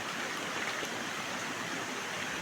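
Continuous rushing river water at night, flowing steadily, soft and even with no voices.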